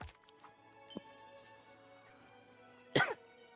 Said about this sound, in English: I know you're coughing.